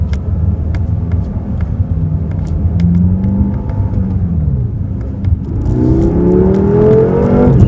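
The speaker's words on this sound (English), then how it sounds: "Love the sound from that V8 twin turbo engine." A 2015 BMW M6 Gran Coupe's twin-turbo V8 pulls hard during a drive, its deep engine rumble rising in pitch as it accelerates, loud and steady with no talking.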